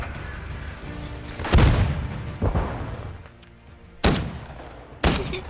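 Call of Duty Modern Warfare II shotgun: four heavy, booming blasts come at uneven intervals, each loud and close with a fading tail, over quieter game background.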